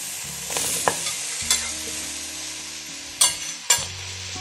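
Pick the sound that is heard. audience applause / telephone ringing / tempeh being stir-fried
tempeh being stir-fried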